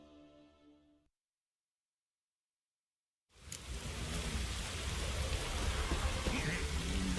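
Rain falling in The Witcher 3 Wild Hunt, a steady, dense hiss that starts abruptly after a near-silent gap and holds evenly to the end, following a brief low tonal passage at the start.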